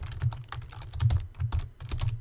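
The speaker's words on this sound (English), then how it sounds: "So go ahead and type that into procedure and hit enter." Close typing on a computer keyboard, an uneven patter of light key clicks in quick clusters with short pauses between them.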